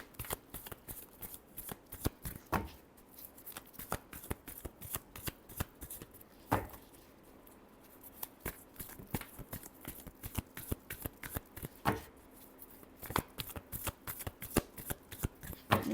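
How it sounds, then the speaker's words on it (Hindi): Tarot cards shuffled steadily for the whole stretch, a rapid papery riffle of sharp card slaps broken by a few louder snaps, close and alone with no talking. "Last shuffle."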